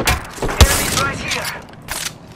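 A grenade blast thumps out amid bursts of gunfire during a video game match, with one sharp close boom standing out and players talking over the action.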